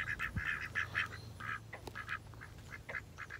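Ducklings on a farm quack in quick, repeated bursts, fairly faint with a few short pauses between calls and no talk over them.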